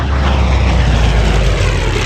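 A World War II North American P-51 Mustang fighter with a Rolls-Royce Merlin liquid-cooled V-12 engine drones loud and steady as it passes over a Michigan airshow, a continuous heavy propeller roar with no talk.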